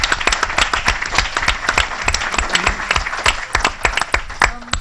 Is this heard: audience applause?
yes